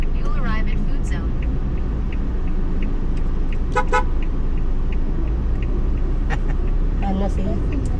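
Busy night traffic in Bacolod City rumbles loudly and continuously while several car horns toot in short bursts, with people talking over it.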